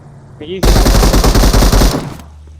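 Loud, close automatic gunfire from a shooting video game, a sustained rapid burst lasting over a second with evenly spaced shots, preceded by a short electronic tone.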